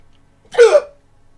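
A single short hiccup from a video game character, close and fairly loud, standing alone against near silence.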